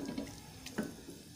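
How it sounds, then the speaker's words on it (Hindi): Water poured from a tap or jug into minced meat cooking in a pot, a brief soft splash and trickle standing alone at low level. "फिर इतना सा मैंने पानी ऐड कर दिया इसमें,"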